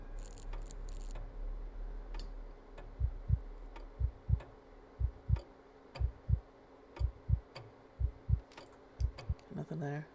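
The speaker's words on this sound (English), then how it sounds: "I hear the heartbeat in my ear." Heartbeat from the horror game Eyes on The Exam, a steady run of low double thumps in even rhythm, fairly close and clear, with faint ticking clicks above and a short burst of other sound at the start and end.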